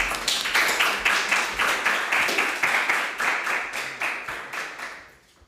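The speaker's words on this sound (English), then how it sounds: "Please, an applause for him." Audience at a startup pitch competition claps in rhythmic unison, a steady beat of about three claps per second, moderately loud, fading out at the end.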